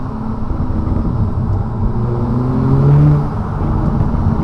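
A car engine fitted with an OEM plus induction kit revs up and holds, a loud close rumbling drone that climbs in pitch toward the middle before easing, with no talking.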